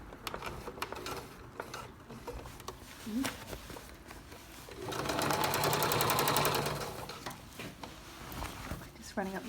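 Sewing machine stitching a thick seam on a jean jacket, slowly hand-wheeled at first with scattered clicks and knocks, then a steady close whirring run of rapid stitches midway before easing off, with faint talk around it.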